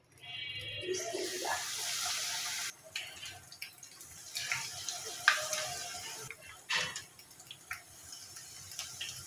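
Battered okra pakora dropped into hot oil in a wok, a soft steady sizzle with faint bubbling and a few clinks, heard fairly quiet under light background noise.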